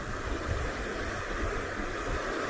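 A stream in Konkan swollen into a river-like flow after heavy rain, a continuous loud rushing roar of water with slight surges in intensity and no voices.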